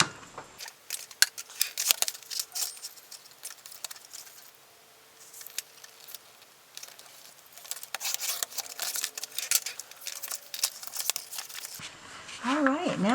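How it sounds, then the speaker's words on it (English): Scissors snip and rasp through the paper cover of a junk journal made from junk mail, in repeated close crisp cuts with crinkling paper and a short pause midway. "I think I'm going to trim off just a little shy of a 1/4 inch."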